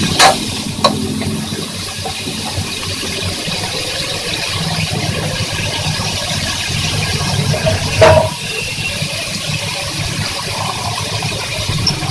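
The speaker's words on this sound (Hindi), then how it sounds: "अब मैं इसे चम्मच चला रही हूँ" A spoon stirs raw mango pieces in a pan while cooking a sweet mango dessert, giving a steady close scraping and sizzling hiss throughout with a couple of brief squeaky scrapes.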